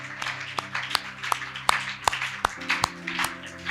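A congregation claps for God at a church gathering, with irregular overlapping hand claps and sharp individual slaps over a steady hum of background music and murmuring.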